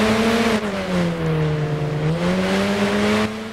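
A car engine in the video game Arma 3 revs hard and holds a steady, loud roar as the vehicle drives fast, with pitch sagging and rising slightly as it speeds along, no talking.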